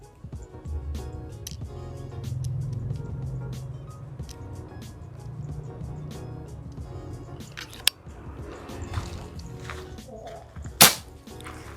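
A Ghost Warrior airsoft gun fires during an FPS velocity test, giving one sharp, close crack near the end, with a fainter click a few seconds before, over a steady low background hum.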